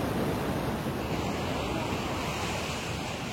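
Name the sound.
sea waves breaking on Henry Island beach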